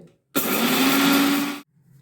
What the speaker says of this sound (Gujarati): આપણે બે ચમચી તલ આપણે આ મિક્સર જારમાં એડ કરીશું ને એને આપણે ક્રશ કરી લેશું